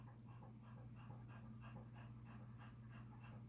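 A dog pants quickly and steadily nearby, with soft, rapid breaths over a constant low outdoor hum.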